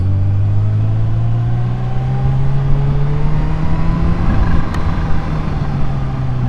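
A Kawasaki Ninja H2 motorcycle riding through twisty roads, its engine drone loud and continuous and rising steadily in pitch as it accelerates, with wind noise throughout.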